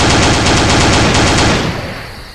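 Automatic gunfire from the shooter game Z.O.N.A Project X: a loud, dense burst of rapid shots that cuts off and leaves a fading echo.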